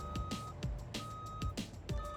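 Truck reversing beeps in a truck simulator game, a steady series of evenly spaced electronic tones over a low engine rumble.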